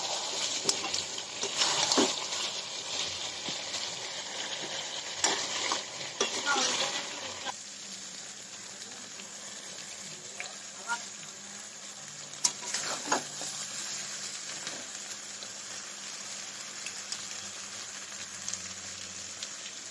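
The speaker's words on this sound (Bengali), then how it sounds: "তো বন্ধুরা এখন দেখুন এখানে হচ্ছে চিকেন কষা।" Chicken pieces sautéing in a pan, a steady soft sizzle with a few louder stirring scrapes early on, then quieter frying in the background.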